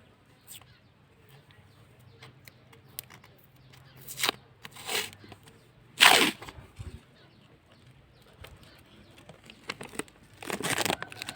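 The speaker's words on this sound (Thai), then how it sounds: "ใช้เทปกาวนะคะ" Adhesive tape torn from a roll and pressed onto a plastic bottle for a strawberry-runner planting setup, heard as a few sharp ripping bursts between quiet handling noises.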